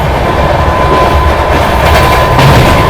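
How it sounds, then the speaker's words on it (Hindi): The 14206 Ayodhya Express runs at speed alongside a local DMU train it is overtaking, a loud, close, steady rumble of wheels and carriages with faint rhythmic clatter and no speech. "चलिए भाई पैरेलल ओवरटेक पैसेंजर ट्रेन को, सॉरी DMU को।"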